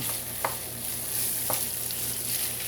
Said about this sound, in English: It's only on a simmer now